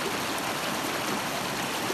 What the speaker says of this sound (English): it's a mountain stream